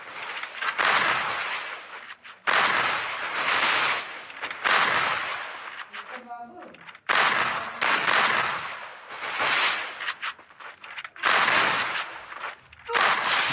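Gunfire in the mobile shooter Free Fire comes as repeated sharp bursts of crackling shots, several clustered volleys separated by short gaps, loud and close, with a faint voice briefly in between.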